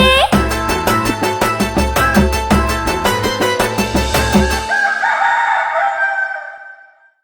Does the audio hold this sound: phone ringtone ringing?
no